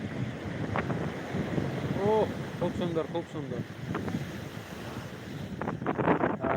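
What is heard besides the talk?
big sea waves crashing at Digha beach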